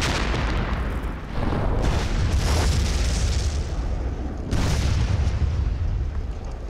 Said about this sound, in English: The defenders blow the bridge.